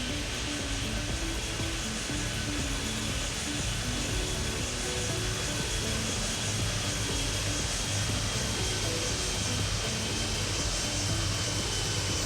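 Airplane taking off from a runway, heard as a steady, loud broadband jet roar that holds constant throughout without pause.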